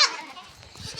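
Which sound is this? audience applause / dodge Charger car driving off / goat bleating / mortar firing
goat bleating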